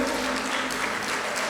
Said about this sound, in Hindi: एक बार जोरदार तालियां होनी चाहिए बच्चों